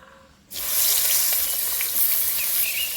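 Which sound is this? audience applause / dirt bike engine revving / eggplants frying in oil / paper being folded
eggplants frying in oil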